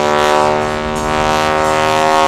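Kirk Wicker's aerobatic aircraft Aurora flying a square loop at the 2012 Tuscaloosa Regional Air Show, its loud propeller engine droning with a strong harmonic whine that dips slightly, then swells again as it passes overhead.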